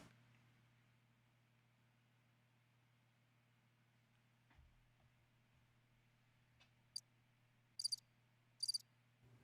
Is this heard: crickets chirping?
yes